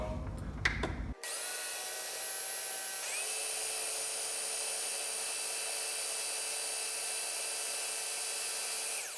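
A food processor blends black bean hummus, vegan and oil-free. Brief clattering comes first, then a loud, steady motor whir runs to the end, its pitch shifting slightly after a few seconds.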